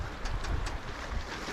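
About 10 knots of wind buffets the microphone aboard a sailboat at sea, a steady rough rush with gusty thumps and no voices.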